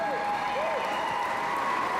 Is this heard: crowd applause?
yes